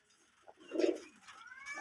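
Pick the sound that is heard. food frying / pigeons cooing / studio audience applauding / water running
pigeons cooing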